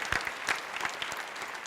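Audience applause at a Tamil studio talk-show debate, a brief burst of scattered, uneven claps filling the space at moderate volume.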